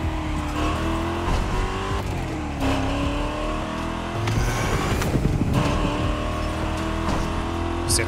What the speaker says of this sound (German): Schauen wir mal, wie diese aufgemotzten Works-Autos über die kurvigen Bergpässe kommen.